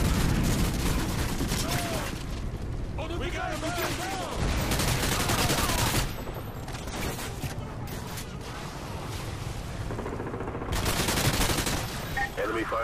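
Dense enemy gunfire in Call of Duty: Modern Warfare 2, with sustained automatic bursts and scattered single shots crackling nearby, loud throughout and easing slightly in the middle before picking up again; voices speak briefly over it.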